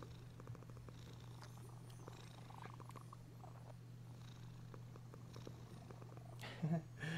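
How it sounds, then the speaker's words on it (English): A cat purrs softly and steadily with a low, continuous rumble, close and quiet, with a brief louder rustle near the end. "here's like the cat purr sound"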